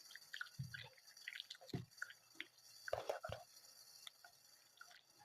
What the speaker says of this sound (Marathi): आता याला चांगलं धुवूया आपण पाण्यामध्ये.